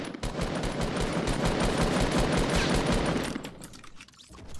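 Rapid automatic gunfire rattles in a Fortnite match, a dense, loud burst of shots lasting a few seconds before it tapers off, with no talk over it.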